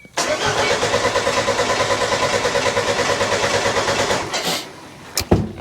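A swapped engine in a retro van cranks and catches on a jump-start battery. It settles into a steady, pulsing run close by, then gives a quick blip of throttle near the end.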